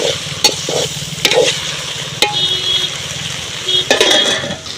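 Prawn and okra curry frying in a pan as tomatoes go in, with a steady close sizzle, stirring scrapes and a few sharp clinks of a utensil against the pot.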